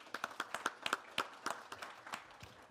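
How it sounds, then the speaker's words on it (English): Faint audience applause at an awards event, a thin scattering of separate claps pattering irregularly at a distance, fairly quiet throughout. "A round of applause,"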